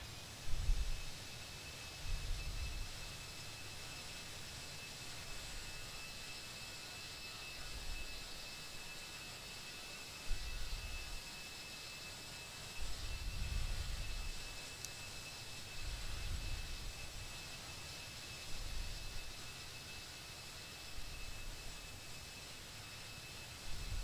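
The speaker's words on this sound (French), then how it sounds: "j'espère que le bruit de l'avion n'est pas trop fort." An airliner engine in the X-Plane 11 flight simulator hums as a faint, steady cabin drone with a thin high whine, low rumbles swelling now and then, and no talking throughout.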